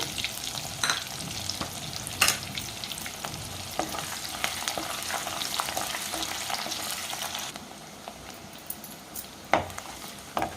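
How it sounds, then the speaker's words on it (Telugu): Mustard seeds crackle and sizzle steadily in hot oil in a pan, with a few sharp pops and spatters standing out over the continuous frying hiss. "ఆవాలు వేగినాయండి"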